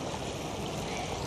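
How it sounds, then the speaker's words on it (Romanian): Clear river flowing past a park with ducks and pigeons nearby, a steady close wash of running water with no break, alone for just over a second. "lângă acest râu foarte cristalin care curge pe lângă mine"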